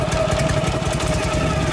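A Harley panhead motorcycle engine runs loud and close with a rapid, uneven thumping beat, sputtering as it runs out of gas.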